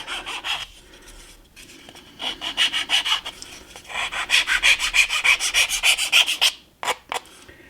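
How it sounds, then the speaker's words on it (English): A regular flat file rasps along the sides of a small model boat for a model railroad layout, heard as close, loud strokes with short pauses that grow into a fast, even series of scraping passes. "I just used a regular flat file and just started filing the sides"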